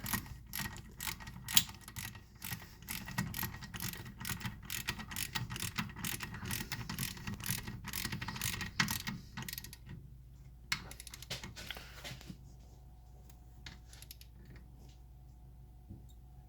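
A ratchet clicks in rapid bursts while tightening a brake line fitting during an Akebono big brake upgrade on a Nissan 300ZX Z32, close and crisp, then stops and leaves faint quiet background.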